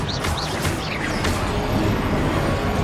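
A Confringo fire spell goes off in Hogwarts Legacy mid-duel, a few sharp whooshing bursts over a dense, constant rumble of game combat effects and music, with no speech.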